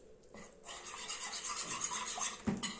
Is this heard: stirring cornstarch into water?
yes